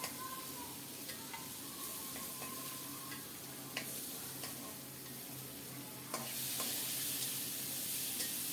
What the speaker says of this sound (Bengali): আলুটাকে নেড়ে চেড়ে লাল লাল করে ভেজে নেব